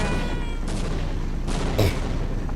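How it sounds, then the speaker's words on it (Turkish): Several booming video game explosions, from Half-Life: Opposing Force, go off in quick succession over a constant noisy background, one louder, deeper thump standing out near the end. "Hep patlama oluyor beyler."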